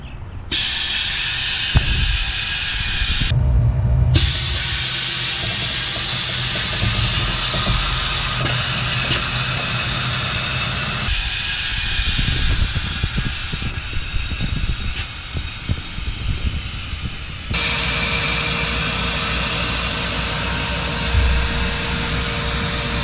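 Air suspension bags on a dually Duramax pickup fitted with a RideTech HD 4-link kit venting as the truck lowers all the way down: a long, loud, steady rush of hissing air with several abrupt stops and restarts, no talking.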